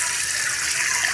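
Running water gushing steadily while jackfruit is washed, a loud, continuous close hiss of tap flow.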